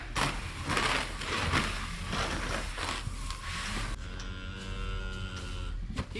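Cows on a Pennsylvania farm come home from pasture mooing, with several deep, drawn-out moos over steady low background rumble and noise, the clearest long moo near the end.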